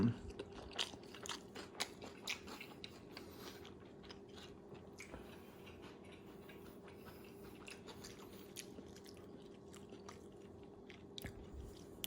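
Close, quiet crunching and wet chewing of a beef taco, irregular bites and chews over a faint steady hum.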